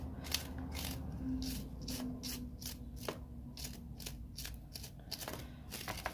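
A brush scrubs paint softened with methylated spirit off a plastic model coach, making quiet, rapid, rhythmic bristle strokes, close and continuous over low background hum.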